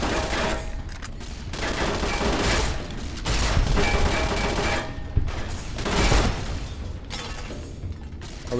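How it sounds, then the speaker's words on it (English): Plasma rifle fire in the video game Fallout New Vegas, loud sustained bursts of crackling energy shots and booms coming in waves with short gaps, dense and close throughout. "Let's go plasma rifle on these guys."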